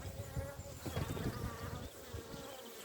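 Honeybees buzzing around backyard beehives, a dense steady drone of many insects close by, with faint background rustling and no clear speech.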